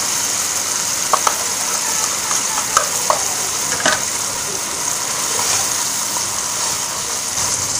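Chicken with turmeric, black pepper, cumin and dried fenugreek frying in ghee, a steady close sizzle with occasional clinks and scrapes of stirring throughout.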